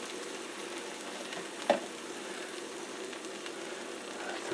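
A grilled cheese sandwich sizzles steadily in a pan, a continuous close hiss and crackle with one brief sharper tap midway and no talking.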